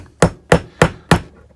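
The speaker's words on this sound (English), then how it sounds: "Just take your brass side or your brass hammer and drive it on home." A brass hammer drives a trigger pin home in a Taurus G3 pistol: four sharp metallic taps, evenly spaced and close, with brief ringing decay after each and no talking.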